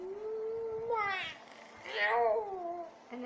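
A cat gives two drawn-out, close meows with rising and falling pitch, separated by a short pause, in a quiet room.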